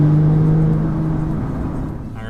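An 800+ horsepower Porsche 911 Turbo accelerates with a loud, steady engine drone and whir that eases slightly over a couple of seconds, heard from inside the car.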